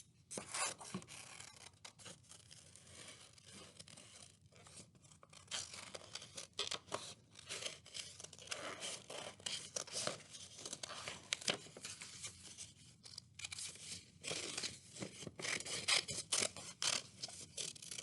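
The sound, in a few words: scissors cutting through two sheets of paper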